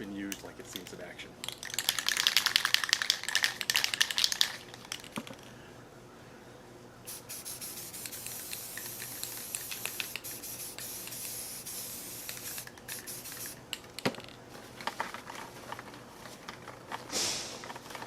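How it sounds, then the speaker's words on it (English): Black spray paint hisses from an aerosol can onto barbed wire in several bursts, some long and some short, close and fairly loud with quiet gaps between, for a horror prop bat. "we're going to treat it with both the black and a little bit of the red spray paint"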